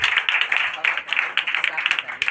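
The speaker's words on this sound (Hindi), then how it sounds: "चलिए जोरदार ताली हो जाए।" Steady, close clapping from an audience at a Bihar Board 2025 district toppers' award ceremony, a continuous patter of sharp hand claps with people talking underneath.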